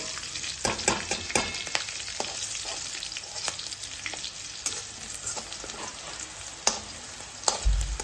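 Close, steady sizzle of spices frying as a tempering for kanda pohe in a pan, punctuated by sharp crackles and stirring clicks, with no talking.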